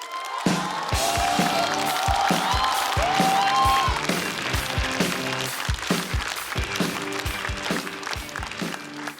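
Audience applause and cheering at a stand-up comedy show as a comedian is welcomed to the stage, a sustained crowd roar mixed with rhythmic walk-on music beats that fades slightly toward the end.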